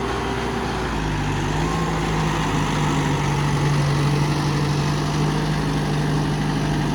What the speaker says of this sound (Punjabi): 4x4 ਚ ਟਰੈਕਟਰ ਥੋਖਾ ਤੁਰਦਾ